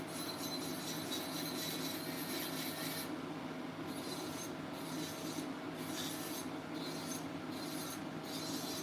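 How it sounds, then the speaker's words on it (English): Electric nail drill filing acrylic nails, a continuous faint raspy buzzing and grinding with brief periodic dips in the sound, heard on its own without talk. "Like you can hear the skip in the drill"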